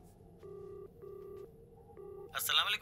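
A telephone keypad on speakerphone in a police station sounds three short electronic tones in a row, each clear and steady, before a voice briefly cuts in at the end.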